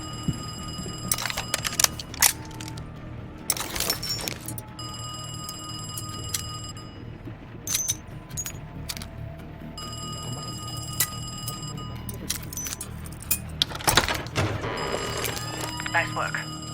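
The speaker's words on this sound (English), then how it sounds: "I'm about to phone Kraus's apartment." An apartment telephone rings in the Call of Duty video game, repeated bright trilling bursts spread through the passage over a busy layer of game background sound.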